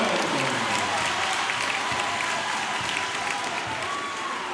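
Loud crowd cheering and applause fill the gym at a high school boys' basketball game after a steal and layup, a dense sustained roar throughout with no commentary heard over it.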